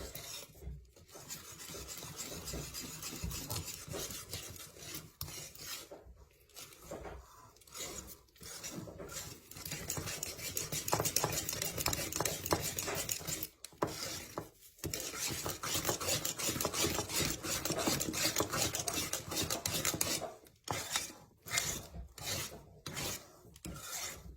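Sourdough bread dough is being mixed with a dough whisk in a bowl, giving a close, continuous rough scraping and rubbing with short pauses throughout, and no talking.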